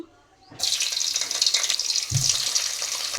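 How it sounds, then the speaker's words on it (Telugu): Onion pieces dropped into hot oil that is already heated for a cucumber curry, giving a sudden loud sizzle that holds steady and close. A soft clatter comes in partway through. "నూనె అయితే కాగింది ఇందులో ఉల్లిపాయ ముక్కలు వేసుకుందాము"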